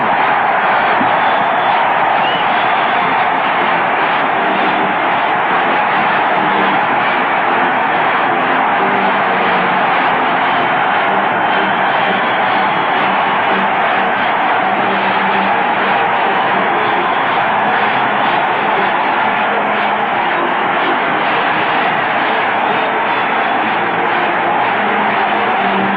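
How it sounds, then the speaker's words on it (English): Cardinals baseball crowd roaring in a stadium after St. Louis takes a 3-1 lead against the Mets in the 1980s, a loud, sustained, dense roar with no letup, muffled like an old radio broadcast. "Listen to the crowd."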